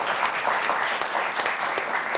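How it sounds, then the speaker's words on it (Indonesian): Studio audience applause during a televised talk show, a steady, dense clatter of many hands clapping at moderate loudness throughout, with no talk over it. "boleh tepuk tangan untuk BHS"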